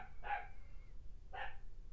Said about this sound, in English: There's my neighbor's dog barking.